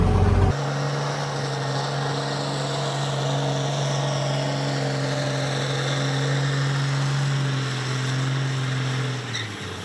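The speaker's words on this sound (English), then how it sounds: "maybe we can do one more burnout" A car's engine held at high revs during a burnout at the Freedom Factory track: a loud, sustained, droning roar with steady tone lasting several seconds before it drops off at the end.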